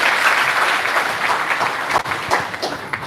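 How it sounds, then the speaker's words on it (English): An audience at a live political party event gives loud, dense hand clapping that fills the space, then thins toward the end as voices begin to cut through. "Let's appreciate him with a hand clap."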